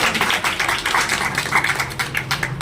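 An audience claps steadily at a Jain temple event, many hands together in a dense, continuous patter of moderate loudness with no pauses.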